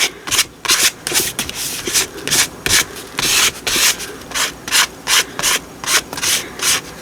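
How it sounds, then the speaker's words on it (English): A card scrapes a clear art medium across paper in about a dozen rhythmic strokes, each a close, dry, rasping swipe with short pauses between. "let's just scrape some on with a card"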